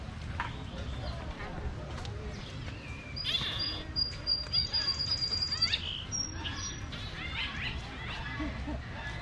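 Birds at San Diego Zoo Safari Park give repeated chirps and a sustained high whistling call in the middle, over rumbling tram noise with people talking.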